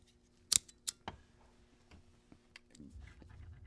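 A knife handle wrap being cut at its end, with a few sharp close snips in quick succession, followed by softer faint handling noises.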